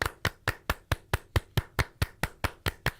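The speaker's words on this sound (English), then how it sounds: "Everybody clap your hands." Hands clapping in an even, brisk rhythm during a live radio show, about fourteen sharp claps spaced roughly a fifth of a second apart, close and clear with no talking over them.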